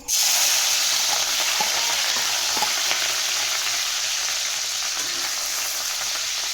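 Finely chopped green chilli hits hot oil in a pan, setting off a loud, steady sizzle that holds evenly from start to finish.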